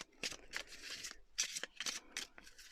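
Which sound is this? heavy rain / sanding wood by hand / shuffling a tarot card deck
shuffling a tarot card deck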